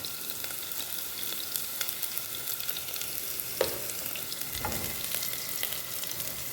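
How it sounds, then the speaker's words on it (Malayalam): Chinese potato (koorka) sautéing with ginger and curry leaves gives a steady low sizzle in the pan, with light scattered stirring taps and scrapes and no talking. "അപ്പോൾ ഞാനിതൊന്ന് കൂർക്കയൊന്ന് നന്നായിട്ടൊന്ന് വഴറ്റിയെടുക്കട്ടെ."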